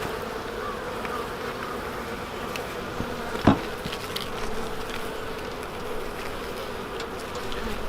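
Honey bees hum steadily inside a hive being fed sugar in winter, a close, continuous buzz with one brief sharp knock partway through.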